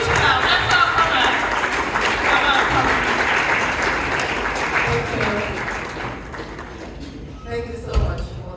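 An audience at a summit applauds the event convener, dense sustained clapping mixed with crowd chatter and voices, gradually thinning out toward the end with a few last scattered claps and thumps.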